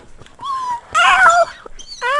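A voice imitates a cat, giving a few short meows and whiny mewing cries in separate bursts, close and fairly loud.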